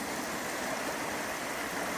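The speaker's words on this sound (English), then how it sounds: "High pressure water." High-pressure water of the Credit River rushes steadily in a broad, continuous hiss, close and loud with no break, during a drizzly day after rain.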